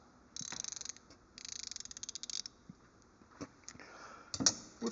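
Gearwrench ratcheting wrench from a flex-head XL double box set, clicking in two quick bursts of rapid, evenly spaced ratchet ticks, then a few sparse clicks and light knocks, close and fairly quiet.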